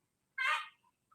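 A Rhode Island Red chicken gives a single short, faint cackle, followed by two tiny clucks in otherwise quiet surroundings.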